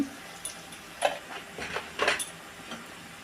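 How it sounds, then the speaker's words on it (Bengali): Spice masala of cumin, chilli powder and salt stirred in a pan, a spoon scraping and clinking in a few quick strokes over a faint sizzle, close and moderately quiet. "মশলাটা আমি ভালো করে কষিয়ে নেব"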